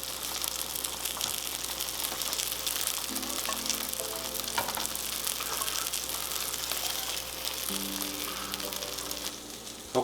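Jerk chicken wings sizzling on a Chefman indoor smokeless grill, a steady dense crackle and hiss up close with faint tonal hum beneath and no talking.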